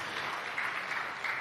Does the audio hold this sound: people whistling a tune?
no